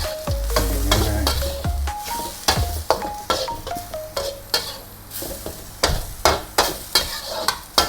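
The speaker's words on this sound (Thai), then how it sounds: "ผัดให้เข้ากันอีกครั้งนะครับ" Beef stir-fries with holy basil and dried chili in a dry pan without oil, with sharp, rhythmic clanks of a spatula against the pan over a steady sizzle, close and loud.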